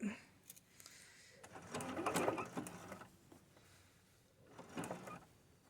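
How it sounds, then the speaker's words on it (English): A sewing machine stitches a fairy skirt of upcycled material, running right over a pin in short bursts of close, fast rattling with pauses between them, fairly quiet overall. "I'm sewing right over this pin"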